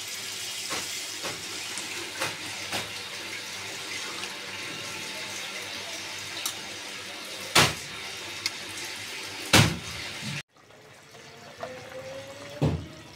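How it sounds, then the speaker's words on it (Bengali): Water is poured into a pan of bitter gourd and shrimp curry, a steady running stream over kitchen noise with a few sharp clinks, ending after about ten seconds. "পানি দিয়ে দেবো।"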